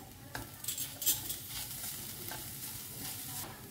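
A spoon stirs a mixture of finely cut green chili and coriander powder in a pan for paratha filling, a soft sizzle under gentle scraping and a few light clinks, quiet and close.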